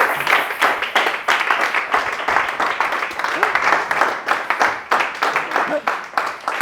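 A church congregation claps and cheers for the Lord, a loud, dense, steady roar of applause and voices filling the room.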